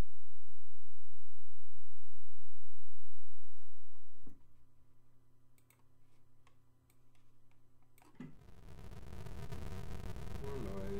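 A Cellular Automaton Synth plugin plays a space-like soundtrack: a steady ticking drone with sparse clicks, then a dense, loud, harsh noise wash takes over in the last few seconds.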